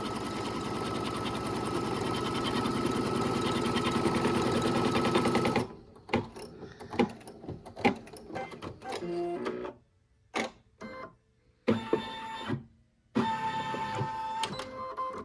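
An embroidery machine stitching a Halloween bowl-filler design runs as a steady, loud rapid clatter, then stops and gives way to scattered clicks, knocks and handling noises with silent gaps.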